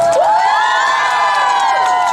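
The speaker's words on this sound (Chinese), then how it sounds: "所有的乐团老师热情的掌声加尖叫声，好不好？" Crowd at an outdoor Taiwanese-language classic song concert in Linkou, New Taipei, cheering and screaming loudly and continuously, with high shrill whoops layered over a dense roar.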